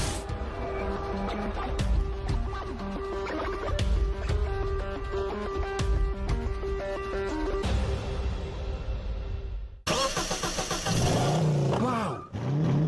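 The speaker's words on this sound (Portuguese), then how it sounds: "Motor V8 265." An original V8 265 car engine revs up, its pitch rising and falling in loud surges after a stretch of steady mechanical drone.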